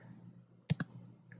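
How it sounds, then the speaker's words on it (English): Two quick, close computer keyboard clicks sound in a quiet room during data entry in statistics software, followed by a faint third tap. "So I'm just going to type that in."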